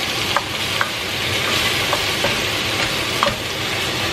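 A burger patty frying in a pan with garlic, giving a loud, constant sizzle with occasional soft knocks and scrapes of a utensil moving the food, heard close up with no one talking.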